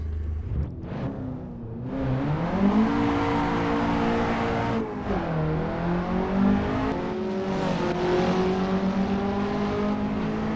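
A 9th gen Honda Civic Si coupe in Assetto Corsa accelerating hard, its engine note climbing steadily through the revs, dipping at a gear shift and rising again, loud and continuous with no talk.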